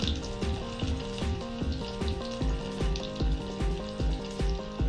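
Sliced onion frying in hot coconut oil for a chenna masala gravy, giving a steady close sizzle with a busy crackle that runs the whole time alongside repeated soft stirring knocks, with no voices.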